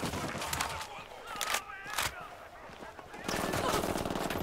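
Bursts of automatic gunfire from a PC tactical shooter game crackle through a busy battle mix, with loud sharp spikes near the start and middle and a denser rattle toward the end; voices speak over it.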